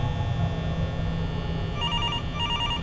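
In the horror video game The Return to Freddy's, a telephone rings with a trilling electronic bell in two bursts over a constant electrical hum.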